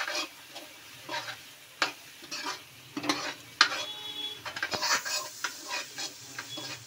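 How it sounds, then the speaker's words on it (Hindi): Chana masala spice frying in a pan while being stirred for chhole, irregular bursts of spoon scraping and clinks against the metal over a light sizzle, close and fairly loud, no voices. "दो चम्मच चना मसाला डालने के बाद इसको फिर हिलाएंगे।"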